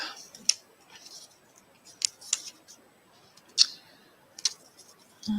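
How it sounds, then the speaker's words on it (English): Scissors snipping paper flowers and leaves cut from desk scraps, several sharp, close snips spaced irregularly over quiet background hiss. "Snip those off."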